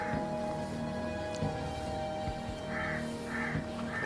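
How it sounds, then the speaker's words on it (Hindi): Crows cawing outdoors at night in an open area, a few harsh calls standing out over steady background hum, with no talking. "कौवे हैं वैसे"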